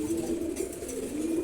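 A Grizzle male pigeon and a Maxi Racer female pigeon, newly paired, give a low, steady, close coo that hums on without a break.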